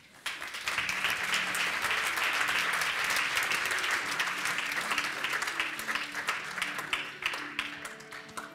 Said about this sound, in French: Je vous demande d'applaudir et d'accueillir avec nous Agnès Bureau-Mira et Delphine Buisson.